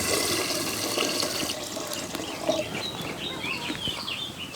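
Water pours into a cooking pot for pepper rasam, a steady splashing gush up close that trails into softer trickling and sloshing.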